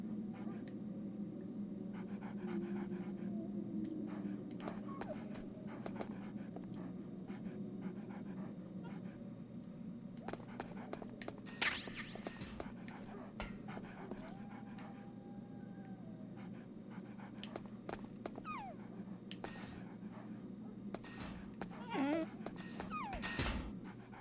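Dogs in the Metal Gear Solid: The Twin Snakes game pant steadily for the whole stretch, with scattered soft whimpers, yips and clicks layered over a constant low game hum and no voices.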